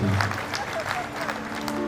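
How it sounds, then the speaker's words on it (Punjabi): Live audience applause in tribute to Charanjit Ahuja at a memorial stage event, steady clapping that fills the moment while a voice carries over it. "ਭਰ ਕੇ ਤਾੜੀ ਵਜਾ ਦਿਓ ਚਰਨਜੀਤ ਹੋਜਾ ਜੀ ਵਾਸਤੇ"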